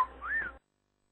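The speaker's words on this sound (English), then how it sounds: "when I try to whistle, it sounds like I'm trying to fart out of my mouth" Someone attempts a whistle, but it comes out as a short, breathy, airy tone that rises and wavers for half a second and then stops.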